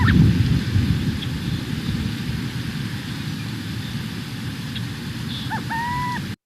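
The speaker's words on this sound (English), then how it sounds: "this owl is hooting as well, but it has its hoot sounds more like a cuckoo" An owl in Iowa gives a cuckoo-like hoot, two short tonal notes heard faintly near the end over a steady rushing, rain-like background.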